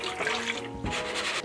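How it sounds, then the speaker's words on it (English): Water pours into a pressure cooker over pork belly with ginger and green onions, a steady splashing rush that shifts in tone partway through as the pot fills. "So we'll add just enough water to cover the meat."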